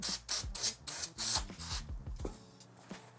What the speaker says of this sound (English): let's take our axle, give some brake cleaner, rubbing alcohol, something like that